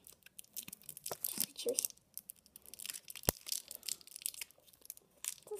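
A packet of red plasticine is torn and crinkled open, with intermittent tearing and crackling bursts and one sharp snap, while a voice speaks briefly.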